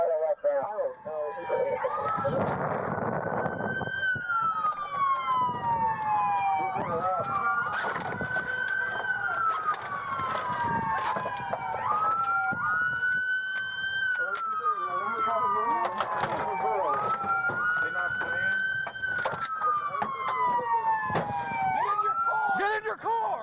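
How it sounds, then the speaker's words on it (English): A police car siren wails in a repeating rising-and-holding cycle about every four to five seconds, loud and close, during a street pursuit with voices and radio chatter underneath. "City siren."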